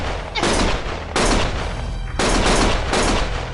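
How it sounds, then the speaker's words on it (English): Heavy gunfire in the game Lost Judgment, loud sustained bursts of shooting that come in three dense waves with brief dips between them, close and harsh. "Stop shooting!"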